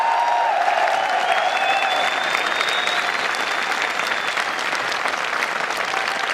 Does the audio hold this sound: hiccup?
no